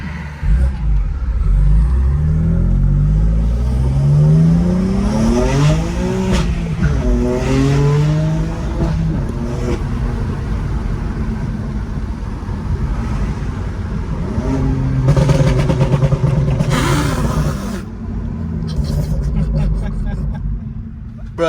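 BMW M2 Competition with VRSF downpipes and a burble tune, loud close exhaust revving up and down with rising and falling engine tones, throaty drone and crackling pops, people talking over it.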